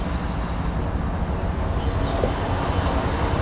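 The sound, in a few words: CSX train engine 3397 passing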